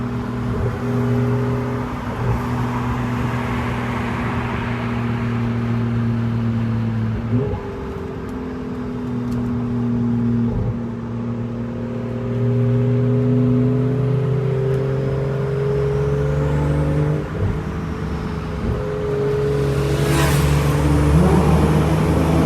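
BMW 540i with B58 engine and catless downpipe exhaust, valve open, driven at night, with a steady close engine drone whose pitch rises and drops through several gear changes, with brief shifts and a sharp crackle near the end.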